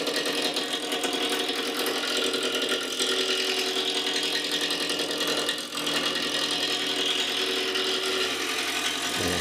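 A wood lathe turns a workpiece for a bowl with a pouring spout at the rim, running at a moderate 600-700 rpm. It gives a steady, even motor hum with a faint rattle, continuous throughout and with no voices.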